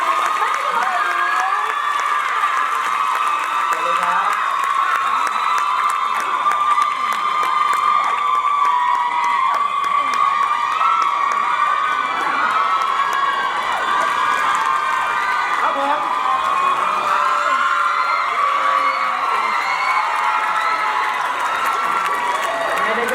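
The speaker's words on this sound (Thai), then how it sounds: "ปรบมือดังๆให้กับทีม" A crowd at a Thai series launch event applauds and cheers for the team, steady clapping and shouts mixed with loud background music and talk over an amplified system throughout.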